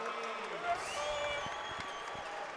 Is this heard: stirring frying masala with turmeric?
no